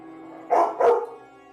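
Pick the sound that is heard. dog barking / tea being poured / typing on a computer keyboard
dog barking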